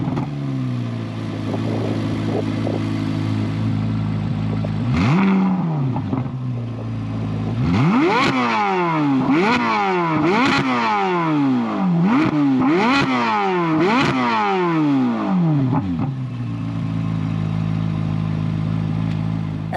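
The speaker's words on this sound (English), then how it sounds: "Let's go ahead and fire it up so you can hear what that engine sounds like real quick." A 2023 Chevrolet Corvette Z06 engine idling, then firing up with a sharp blip and revving in a series of about seven rising, piercing wails that drop back quickly, before settling into a steady loud idle, close by.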